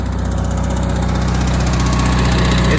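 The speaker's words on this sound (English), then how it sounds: "But this tractor's running really good." A Sears Suburban garden tractor engine runs steadily at close range on a very cold snowy day, a continuous loud mechanical drone with a fast regular low pulse and no voices.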